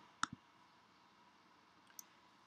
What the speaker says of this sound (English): by clicking over here, you can change the time.